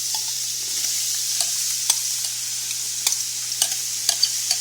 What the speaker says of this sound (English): So I'm gonna add a little bit oil in here. And then I'm gonna add the herbs that I blend all together.